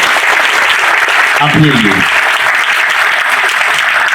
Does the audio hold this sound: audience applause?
yes